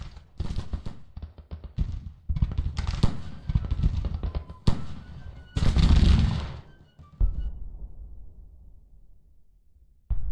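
Civil War battle in the Grand Tactician strategy game: dense bursts of musket volleys and booming artillery, crackling in uneven clusters and loud rolling blasts, with gaps where echoes fade out.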